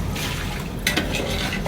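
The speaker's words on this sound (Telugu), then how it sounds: "2-3 గ్లాసెస్ వాటర్ వేయాలి." Water is poured steadily into a pot of chicken dum biryani marinade with lemon juice, a soft continuous liquid wash heard up close with a slight splash midway.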